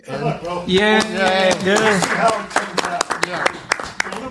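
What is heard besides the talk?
applause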